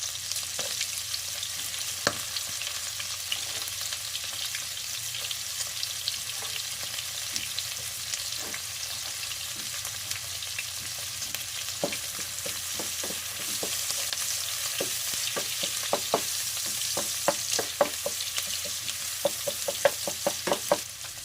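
Garlic sautés in a pan for ginisang upo with pork, a steady sizzle throughout with scattered sharp knocks and scrapes of a utensil stirring against the pan, which grow more frequent toward the end; no talk.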